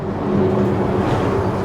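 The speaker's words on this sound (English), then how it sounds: "Excuse the noise, I'm right on the edge of the road." Steady low rumble of road traffic going by close at hand, a continuous broadband roar with no voices.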